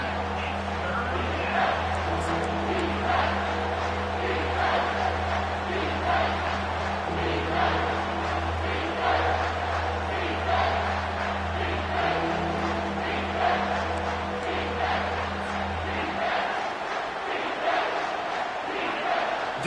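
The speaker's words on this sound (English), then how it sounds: "Decibels rising as the crowd gets behind this defense on 3rd down." A football stadium crowd at a Rutgers at Alabama game roars steadily behind the defense on third down, a dense, sustained noise that holds for most of the stretch before thinning near the end.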